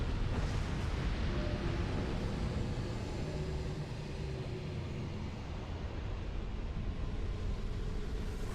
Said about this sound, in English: You really want to humor me with one more gigantic explosion, giant particle.